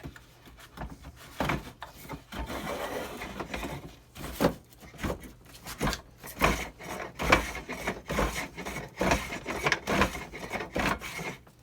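Wood being cut away from a CVA memorial rifle stock by hand in repeated rasping, scraping strokes, close and uneven in rhythm, some strokes louder than others.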